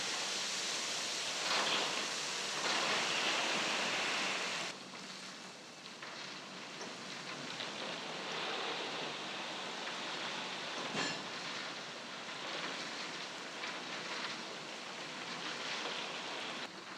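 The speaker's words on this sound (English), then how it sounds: "the overhead tipple spews a stream of coal into each" Coal pours from an overhead tipple into empty hopper cars on an Appalachian coal train, a steady broadband rushing roar that runs without a break, slightly louder at first and then settling.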